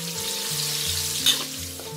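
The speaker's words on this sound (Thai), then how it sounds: "เราจะทอดปลาค่ะจนเหลืองค่ะให้ใช้ไฟปานกลางไปทางแรงเลยค่ะ" Fish fries in a pan over medium-high heat, giving a constant, close sizzle under soft background music.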